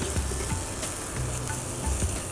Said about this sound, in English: Because I've added very less oil, what I'll need to do is I'll have to keep stirring to ensure that it does not get burnt